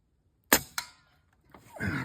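A Diana Stormrider 4.5mm air rifle fires a sharp single shot, followed by a quick second snap as it hits a metal can target, then quiet and some faint rustling.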